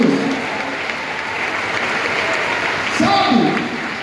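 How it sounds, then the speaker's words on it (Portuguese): A church congregation applauds together, producing a steady wash of clapping that lasts the whole stretch, with a voice rising over it near the end. "Você pode dar uma salva de palmas para Jesus?"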